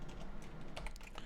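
Typing a Python command at a command prompt on a computer keyboard, with quick close key clicks for about a second over a low steady hum.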